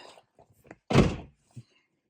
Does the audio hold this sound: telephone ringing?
no